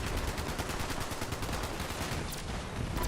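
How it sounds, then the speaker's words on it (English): Rapid, continuous gunfire in Fallout 76, a dense automatic stream of closely spaced shots firing loud and steady throughout without pause, with no talking over it. "What are you guys even shooting at?"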